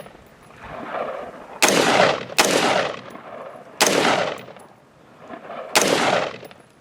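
Gunfire from 300 Blackout and 5.56 rifles at an outdoor desert range, four loud, sharp shots spaced a second or two apart, each with a short echoing decay and no talk.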